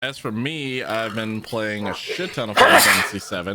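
A single sharp sneeze bursts out during a gaming podcast recording, landing briefly and loudly amid steady close-up talk from one speaker.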